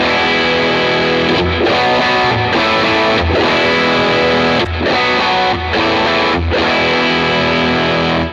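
Distorted electric guitar played through a Line 6 Helix digital model of a Matchless C-30 amp, loud strummed chords ringing with short gaps between them, a crunchy tone with a chorus-like shimmer and no talk.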